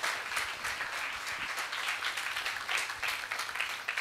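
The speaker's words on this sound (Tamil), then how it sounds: "அவளுக்கெல்லாம் நம்ம இன்னும் மிகப்பெரிய ஒரு கரகோஷத்தை கொடுத்து அவளுக்கு நம்ம உற்சாகம் படுத்தலாம்" Listeners at a Shankara Jayanthi harikatha festival applaud performing children, a moderately distant, even patter of many hands clapping over a faint steady hum.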